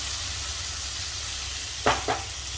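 Chopped tomato stirred into onions in a pan, a low steady sizzle of frying with two short scraping stirs near the end.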